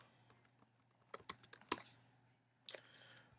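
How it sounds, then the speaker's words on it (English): Quiet keystrokes on a computer keyboard, a quick irregular run of clicks followed by a pause and a final keypress, close and faint over a low hum. "So type in this command."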